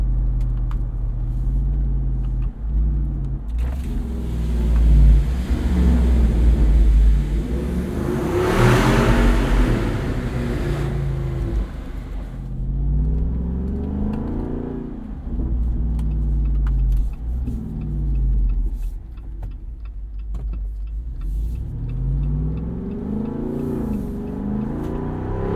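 A 2021 Jeep Wrangler Rubicon 392 with its V8 engine accelerates hard from inside the cabin, with loud, rising and falling revs that climb through the gears, a sustained roaring surge, and no talk over it.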